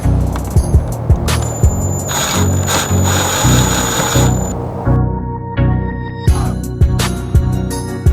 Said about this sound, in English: get the angle driver, and we're gonna self-tap into the bumper through the pre-drilled holes on the splitter